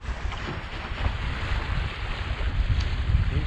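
Sailboat heading up into the wind under sail, heard as steady wind buffeting the microphone over low water wash and rushing sea noise.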